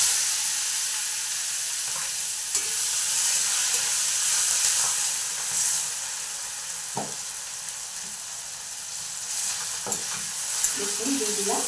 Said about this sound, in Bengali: এই দেখুন দেখতে পাচ্ছেন কত সুন্দর ভাজা হচ্ছে, একটাও কিন্তু ভেঙে যাচ্ছে না